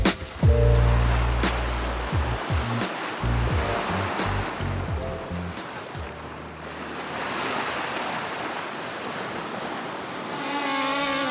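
Ocean waves on the open mid-Atlantic surge and wash around a sailboat, with wind buffeting the microphone and a rushing swell rising and falling throughout.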